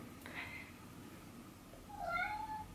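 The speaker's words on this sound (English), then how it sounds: "my cat is right over there being all sad because I won't play string with her" A pet cat gives one drawn-out meow near the end, fairly faint, after a stretch of quiet room tone.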